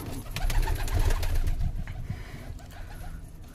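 Fantail pigeons cooing at their nest where eggs lie, soft low throaty coos repeating close by during the first half, fading into quieter rustling, with no talk over them.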